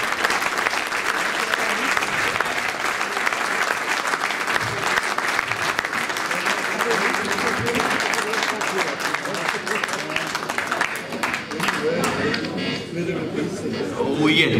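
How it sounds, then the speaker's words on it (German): A festival crowd applauds a performer at an Austrian blues harmonica festival, a dense sustained roar of clapping with some cheering that holds steady before thinning toward the end. "Applaus für den Moro"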